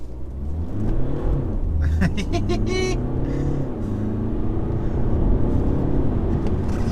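A 2017 BMW 220d pulls away from a standstill on a wet road, its engine rumble rising in pitch as it accelerates, heard from inside the car with someone talking over it.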